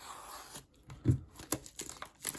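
Plastic packaging of new Ruike knives being unwrapped, with close crinkling and tearing, a firmer crunch midway and sharp rustles coming in quick bursts.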